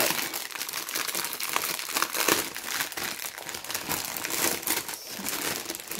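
Paper packaging around a Christmas-themed DAC product is crinkled and torn open up close, a continuous dense rustling and crumpling with no speech.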